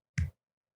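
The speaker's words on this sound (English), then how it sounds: "That's the sound of a one-handed clap." A single sharp hand slap or snap-like clap, one short close burst that stops abruptly and leaves silence.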